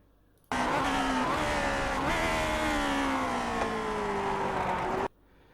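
A Lotus 49 race car engine in the iRacing sim, a loud sustained high-revving roar that cuts in sharply, holds with pitch sliding slightly as the throttle works, then stops abruptly; no talk over it.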